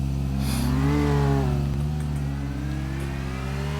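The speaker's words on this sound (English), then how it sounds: "if you hold spacebar, you could do a brake burnout." A video game car holds a loud, steady engine drone while doing a brake burnout, its revs climbing and dipping slightly with a whirring, tire-spinning tone throughout.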